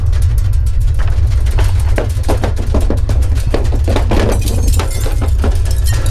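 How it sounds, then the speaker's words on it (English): A rapid series of sharp cracks and crashes, like glass breaking and shattering, over a loud, steady low rumble with no pauses. "Do not be surprised by the noise from broken glass, creaking walls, or falling objects"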